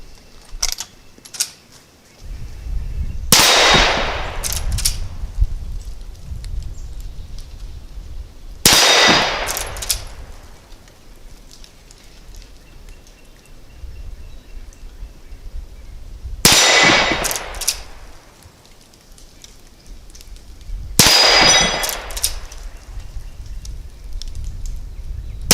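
Four sharp shots from a Henry Silver Frontier .22 Magnum rifle, each followed by a ringing clang off steel targets, spaced several seconds apart outdoors with quiet rustling in between.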